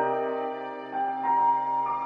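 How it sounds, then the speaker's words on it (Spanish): A melody sample time-stretched in FL Studio for a 1NONLY-style beat plays alone as a steady, sustained harmonic tone with a few swelling notes near the end, with the stretching also shifting its pitch. "De esta manera ya estira el sonido de la melodía y ahora suena así."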